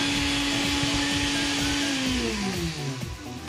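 A kitchen blender runs steadily while chopping onion, a loud continuous motor whine that holds its pitch and then drops as the load changes near the end, with no talk over it.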